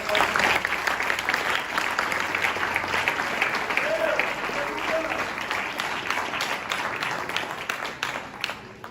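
A church congregation at a worship service applauds, a dense, loud, continuous wash of clapping from many people that runs throughout, with some voices faintly underneath.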